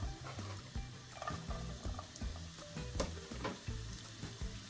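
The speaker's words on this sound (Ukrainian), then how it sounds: "Підсмажуємо все це на невеличкій кількості олії." Minced meat, onion and vegetables sizzling and frying in a little oil in a pan with scraping stirs, a continuous crackle close by, no voices.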